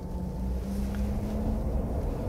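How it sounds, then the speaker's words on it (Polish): Volvo FE Electric fully electric truck driving, giving a faint, steady motor hum over a continuous wash of road and air noise, with no talking. "leciutki szum tego silnika"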